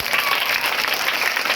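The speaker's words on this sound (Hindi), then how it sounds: "पांचों उंगली से जोर से ताली बजा दो।" Children in a workshop give a loud, sustained burst of clapping with all five fingers, dense and close, with no talk over it.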